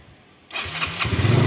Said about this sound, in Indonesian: hidupkan mesin.